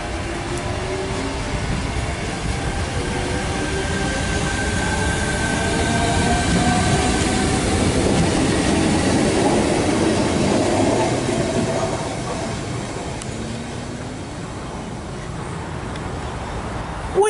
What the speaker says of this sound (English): T89 and 129 is now departing platform number 1, Central via Gordon service.